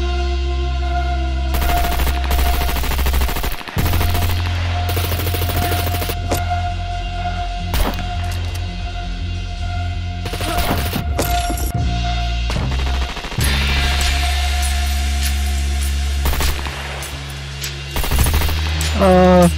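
Rifle gunfire in the video game SCUM comes in loud close bursts and single shots, interrupted by brief gaps, with a steady low hum and game noise underneath.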